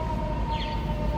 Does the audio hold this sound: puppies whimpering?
no